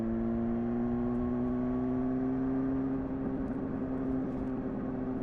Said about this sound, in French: Ah ouais, quel plaisir cette moto,